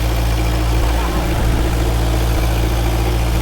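A freshly rebuilt 1931 Ford Model A engine in a Woody Wagon runs steadily while warming up, a loud, close, even low drone that holds without change throughout.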